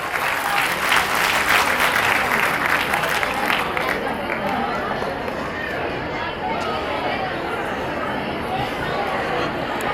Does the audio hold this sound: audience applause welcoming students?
yes